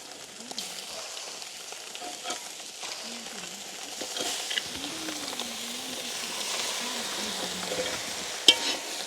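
Grated carrot and thinly sliced leeks sauté in a pan, giving a soft steady sizzle with occasional stirring scrapes and one sharp clink near the end, while a voice speaks faintly in the background.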